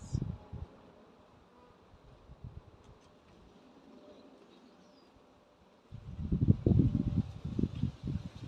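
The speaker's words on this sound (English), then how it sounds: "all the bees that are out foraging. They are going to come back to this hive" A honeybee hive hums with a faint steady buzz at first, then a louder, closer rumble of bees swarming near the hive in the final seconds; no one speaks.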